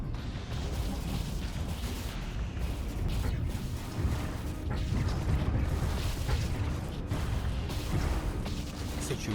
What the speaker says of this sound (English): Fire the nukes!